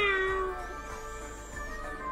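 A cat meows in a drawn-out, wavering call close by, one long sustained cry with shifting pitch over a steady low background hum, no talking.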